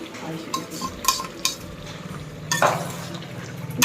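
A spoon scrapes and clinks against a pan while onion paste is stirred into shahi chicken curry, a few distinct knocks and scrapes over a soft continuous sizzle, close and fairly quiet.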